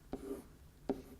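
A pen or pencil writes out a math expression in two quick, faint scratching strokes, close and alone, with a short pause between them.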